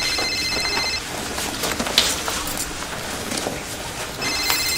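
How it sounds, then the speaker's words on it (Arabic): A mobile phone rings in a repeating electronic tone pattern, audible near the start and again at the end, with a quieter stretch of room noise and small clicks in between. "تليفوني بيرن."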